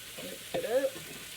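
Zucchini and carrots fry in a garlicky pan and get stirred, a short burst of scraping and sizzling rising briefly over a low background hiss.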